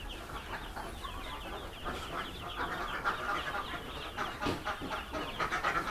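Day-old ducklings in a farm brooder peep and chirp in a busy overlapping chorus of short calls, close and steady throughout, with no talk.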